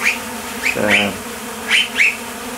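Honeybees buzz around close by on a back veranda, with short passing whines and one deeper drone in the middle, against a quiet outdoor background.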